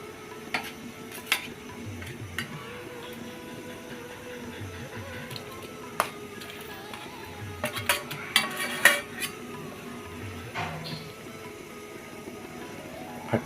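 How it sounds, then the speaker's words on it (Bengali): Eggs added to a cooking pan, heard as scattered clinks and taps of utensils against the pan over a soft steady kitchen hum, with a busier cluster of clatters midway. "এখন ডিমগুলো দিয়ে দেব।"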